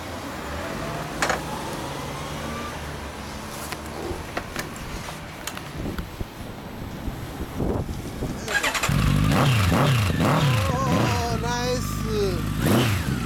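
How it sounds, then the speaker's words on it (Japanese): A 2015 Honda CB1100 EX fitted with a Moriwaki RC Four stainless four-pipe exhaust starts with low rumbling and clicks, then revs up loudly in rising and falling sweeps, with people talking in between. "エンジン音聞かせてもらえますか。"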